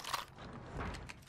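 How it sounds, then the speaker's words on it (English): A weapon reloads in a video game with quiet mechanical clicks and ratcheting over about a second, faint and without voices. "Reloading."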